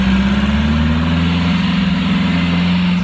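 A turbocharged air-cooled Volkswagen engine runs loud and close, with a steady throbbing idle and a faint high whine over the top.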